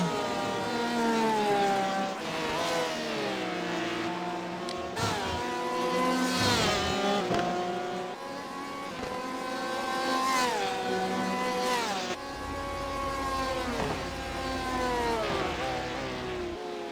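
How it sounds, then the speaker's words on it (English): Porsche GTE race cars in a video game at Watkins Glen, two engines screaming close together, revs climbing through gears and dropping on downshifts, loud and continuous with no talk. "Two Porsches battling it out on the GLEN."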